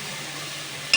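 Grated tomato stirred into a cooking pot of Sindhi methi rice, a steady close sizzling and scraping wash that holds even throughout, ending in a brief louder clink at the finish.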